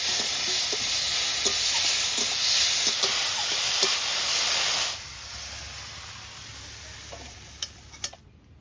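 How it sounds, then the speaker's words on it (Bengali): Prawns fry in a pan with a loud hissing sizzle and scraping stirs, which drops to a quieter bubbling partway through before a few sharp clinks near the end. "এবার চিংড়ি মাছটা ভেজে নেব।"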